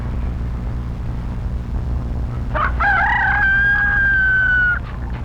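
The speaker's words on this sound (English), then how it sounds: "is that chicken screaming?" A rooster crows once, loud and near, with a rising cock-a-doodle-doo that holds a long strained final note for about two seconds over a steady low background hum.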